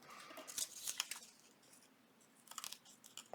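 Scissors snip through paper in a few quick, close crisp cuts and crinkles, with a short pause between bursts and no talking.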